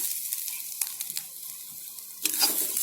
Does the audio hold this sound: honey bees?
no